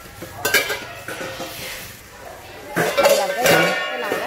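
A thick copper-bottomed Japanese pot being handled, giving a few metallic clanks and knocks with pan-on-pan contact, loud and close, with a busier burst of clattering near the end.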